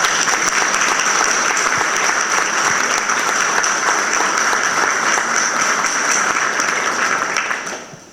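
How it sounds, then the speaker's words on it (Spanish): An audience at an exhibition opening claps steadily for several seconds, dense and fairly loud, before the applause fades out at the end. "Un aplauso para ellos."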